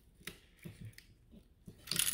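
A new sprag part drops into the front differential of a Polaris RZR 800, giving faint, scattered metallic clinks and light taps close by, ending in a brighter jingling rattle.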